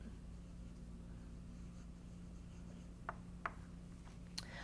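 A pen drawing lettering on a wooden tool box: faint, soft scratchy strokes over a steady low hum, with a few short sharper scrapes toward the end.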